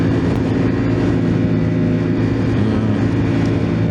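A 2024 Ducati Panigale V4S sport motorcycle engine drones loudly and steadily while riding, with heavy wind rumble throughout and no pauses.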